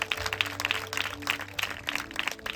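Church congregation clapping during an evening worship service, a steady scatter of hand claps with irregular bursts, moderate and somewhat distant, over a low sustained hum.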